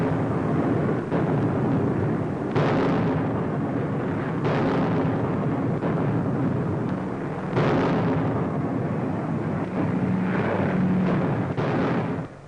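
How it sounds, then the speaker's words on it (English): Anti-aircraft flak bursts around bombers over an enemy coast, heard as a run of loud, rumbling booms and blasts every second or two over a continuous heavy roar. "they're over the enemy coast, driving into a flak-filled sky"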